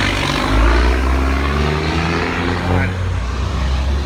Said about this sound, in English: Hold on, I got giant trucks coming by.